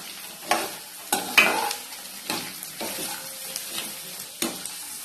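Carrot, green peas and beans sautéing in a pan with a soft continuous sizzle, punctuated by sharp scraping stirs of a spatula at irregular intervals.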